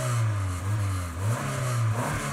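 A Peugeot car engine converted to run on ethanol, now running on petrol, revs at full throttle with a steady loud drone and slight wavering pitch, close by and alone.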